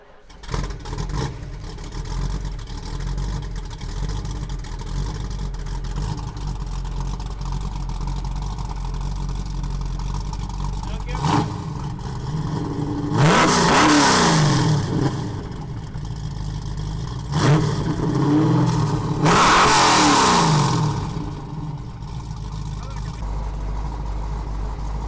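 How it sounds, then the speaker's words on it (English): A Ford 302 V8 engine idles with a low rumble, then revs hard twice, rising and falling in pitch, fairly close and loud. "It sounds amazing. Those 302s, they sound good."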